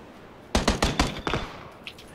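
A short burst of automatic gunfire in PUBG Battlegrounds, about six or seven rapid, loud close shots in quick succession, then a faint distant crack or two afterward.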